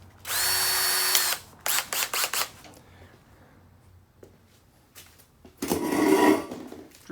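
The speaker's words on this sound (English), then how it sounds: "Drill that out and get those off of there." A power drill whines loudly for about a second while drilling out spot welds on a motorcycle frame pan, then several short bursts follow, and another rough grinding burst comes near the end.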